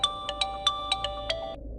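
A phone ringtone plays a bright electronic tone broken by six quick rhythmic chirps, clear and close, then cuts off abruptly with nothing else heard.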